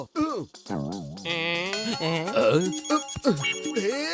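A phone rings with an electronic melodic tone in a Motu Patlu cartoon, set among lively animated character voices and sound effects that overlap it throughout.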